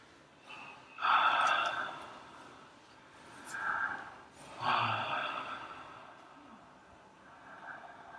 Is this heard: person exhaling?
yes